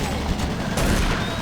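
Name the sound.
automated turret guns firing in Doom 3 (video game)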